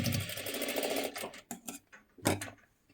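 A sewing machine runs a steady rapid stitch while double-stitching a saree-fabric jacket, then stops and restarts in a few short bursts with clicks and handling, close and clear.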